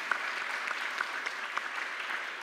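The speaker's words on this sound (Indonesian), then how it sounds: "Kita aplaus untuk beliau." A small church audience claps steadily for a pastor, a soft, fairly distant patter of applause with no speech over it.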